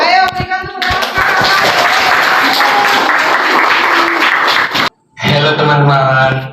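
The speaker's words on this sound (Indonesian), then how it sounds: "Ayo berikan tepuk tangan." Audience applause fills a classroom-style teaching session, a dense steady burst of many hands clapping for several seconds, cut off abruptly, then followed by a harmonic tone or voice-like sound.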